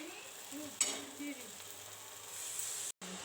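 A spoon stirs tomato and sugar chutney in a pan over a low flame, giving a soft steady sizzle with a brief scrape and a short clink, close and fairly quiet.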